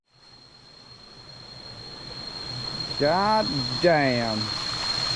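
Rushing water from a jungle waterfall on Koh Samui makes a steady broadband roar that grows gradually louder as it is approached. A man's brief exclamation and a thin high whine sit on top.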